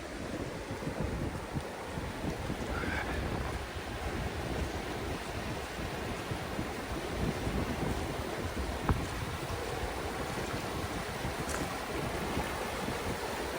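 Fast-flowing water rushes along a rocky edge at a park, a loud, steady broadband roar with no pauses, mixed with wind buffeting the microphone.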